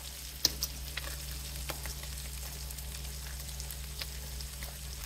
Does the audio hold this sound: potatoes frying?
yes